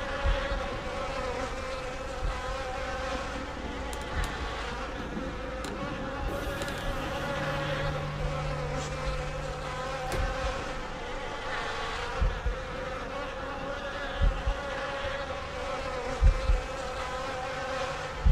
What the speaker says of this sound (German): Oh, das regt mich auf, dieses Fliegengeräusch